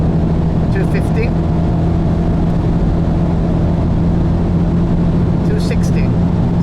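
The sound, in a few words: BMW X2 M35i engine at full throttle near top speed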